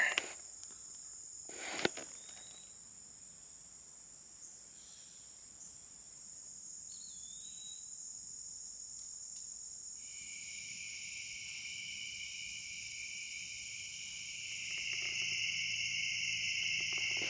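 Insects chirp at night around a campsite in a steady, unbroken high-pitched chorus, with a couple of faint knocks near the start and no talking.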